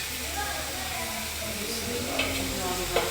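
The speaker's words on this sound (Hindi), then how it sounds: "डाल के इसको फिर अच्छे तरीके से हिला लेना।" Food stirred in a hot pan, a continuous close sizzle and hiss with soft scraping and a couple of light utensil knocks, while someone talks over it.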